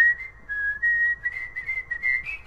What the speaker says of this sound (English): No, don't whistle. It picks up bad on mics.